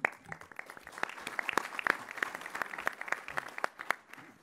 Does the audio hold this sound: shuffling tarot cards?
no